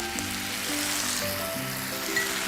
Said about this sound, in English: Now इसमें all we now simply need to do is put in some soy sauce.